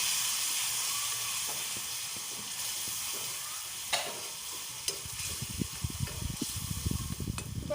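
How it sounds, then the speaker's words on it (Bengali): Khichuri ingredients of Gobindobhog rice being sautéed and stirred in a pan with a splash of water, a steady sizzling hiss with spoon scrapes and clinks growing busier toward the end, heard close with no talk. "সামান্য একটু জল দিয়ে ওটাকে ভালো করে কষিয়ে নেবো"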